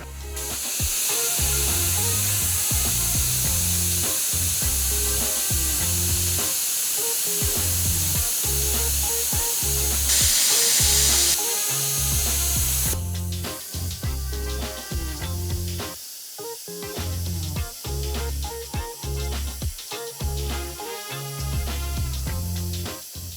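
YesWelder Cut-55DS plasma cutter slicing quarter-inch metal, a loud sustained spraying hiss and crackle running for over twenty seconds with rhythmic pulsing, briefly brighter midway, then changing texture as the cut continues.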